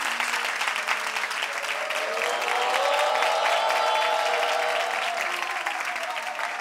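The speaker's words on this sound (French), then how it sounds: "Applaudissements pour vous-même." A French TV talk-show studio audience applauds, a dense, sustained clatter of many hands that swells in the middle and tapers slightly toward the end, with no talk heard over it.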